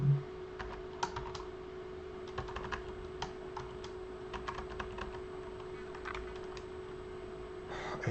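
Close, quiet typing on a computer keyboard, with irregular key clicks over a steady low hum of about eight seconds.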